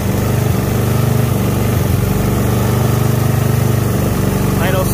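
A go-kart engine fitted with a Pro Circuit muffler idles close by, a loud, steady, throbbing rumble with even pulsing throughout and a slight rise near the end.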